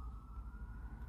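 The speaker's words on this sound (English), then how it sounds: "Oh, we got sirens going by." A siren wails at a steady pitch over low rumbling traffic noise, sounding moderately distant and fairly faint throughout.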